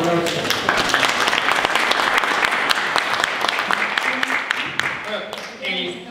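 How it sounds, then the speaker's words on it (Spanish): An audience at a public territorial planning session in Quillota applauds, producing dense, steady clapping that stays loud for about six seconds before thinning slightly at the end. "Un aplauso."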